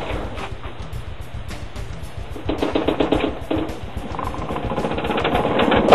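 A homemade spin art machine whirs with a frisbee mounted on it, giving a steady rapid rattling buzz that grows louder and rougher as it speeds up, with a slight wobble in the rhythm.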